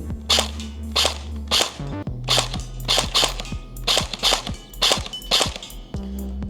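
A Sijun MP5 gel blaster fires a rapid string of sharp snapping shots in uneven bursts, close and loud, with a low motor hum running between shots.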